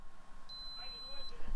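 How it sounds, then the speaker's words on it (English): A drone radio transmitter sounds a single steady, high alarm beep that holds for under a second over a rough background hiss of a Mobula 6 whoop setup. "That constant beeping though, that's going to drive you a little bit insane."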